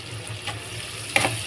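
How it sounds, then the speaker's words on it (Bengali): Onions fry in a pan over a gas flame, a steady soft sizzle with a brief clink of stirring near the end. "পেঁয়াজটা প্রায় অলমোস্ট ভাজা হয়ে এসছে।"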